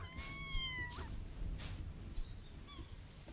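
Cat meows in Mika and the Witch's Mountain, a few rising, whistly cries over steady low game ambience, fairly clear and alone without talk.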